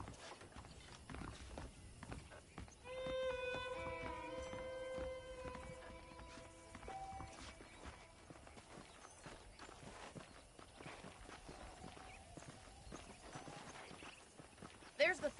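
Horse hooves clip-clop at a walking pace in the video game Red Dead Redemption, steady and fairly close, with a character speaking over them and a short melodic sting partway through.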